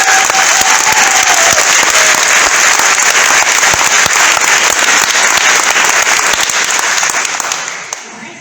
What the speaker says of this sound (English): So can I have a round of applause for them?